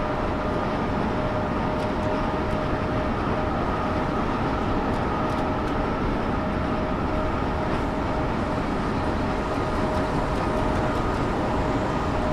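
A newer locomotive in Train Sim World 6 runs steadily up a slight 0.1% grade at almost 60, giving a constant loud rumble with a droning engine hum throughout and no voices.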